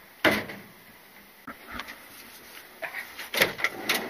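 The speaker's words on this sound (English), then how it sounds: "Sliding doors." The sliding door of a campervan rattles and thuds as it is worked open and shut. It gives a sharp clunk, a few scraping knocks, then a cluster of louder bangs near the end, with no speech.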